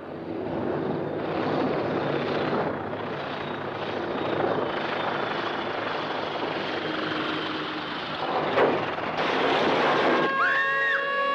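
Propeller airplane engine in an old wartime comedy film, a steady loud drone with wavering pitch that sputters and whines near the end as it stalls, no talk over it.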